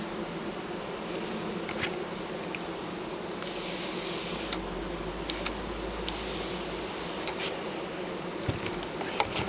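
Honey bees buzzing steadily and close during a hive inspection in July, with a constant insect drone throughout and occasional brief bursts of hissing.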